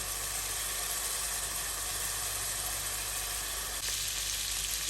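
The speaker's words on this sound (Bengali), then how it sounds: "এখন ভালোভাবে কষিয়ে নিব গ্রেভিটাকে" Spiced curry gravy for kofta curry frying hard in a pan, a dense, continuous loud sizzle that stays steady throughout with no voices.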